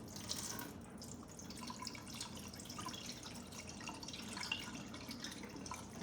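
Rinsed rice is drained of its water, giving a steady trickle and patter of pouring water that continues without a break, close and fairly quiet.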